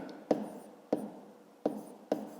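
Pen strokes on paper as numbers are written for a grade 5 math exercise, four sharp scratchy bursts at a steady pace, close and fairly quiet, with no voices.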